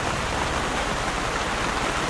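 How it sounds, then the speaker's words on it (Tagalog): Heavy rain pours steadily at a campsite in Tanay during a solo motorcycle camping trip, making a dense, continuous loud hiss with no break. "Mas malakas pa yung ulan ngayon kaysa kahapon, kaysa kagabi."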